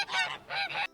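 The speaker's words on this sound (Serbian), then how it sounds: "A kako se guska čuje?" A goose gives two quick, loud nasal honks in succession, clear and close with nothing else audible.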